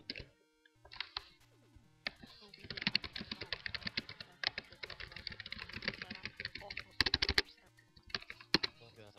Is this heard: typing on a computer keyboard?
yes